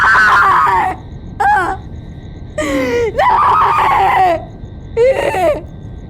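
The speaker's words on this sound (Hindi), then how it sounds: "सर, नूरी की चीखें सुनते ही मैं दौड़ा चला आया।" A woman screams in a Hindi TV crime drama, loud high-pitched wails broken into several separate bursts with short gaps between them.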